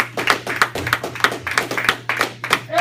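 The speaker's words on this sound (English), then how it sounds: "Give Eddie a round of applause" Audience at a comedy cabaret applauds comedian Eddie McGee with a run of close, loud, rhythmic hand claps, steady and evenly spaced, with no voices over them.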